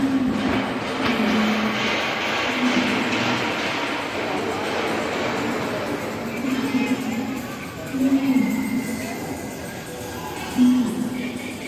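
A kids' ride-on train rolls through a busy shopping mall in Bangalore, its steady rumbling hum marked by repeated short tonal hoots, set among crowd chatter and a nearby voice.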